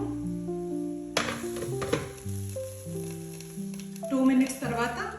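Onions, chillies, carrot, tomato and capsicum frying in oil in a lidded pan for besan chilla, giving a steady close sizzle under louder background music, with a few utensil clinks.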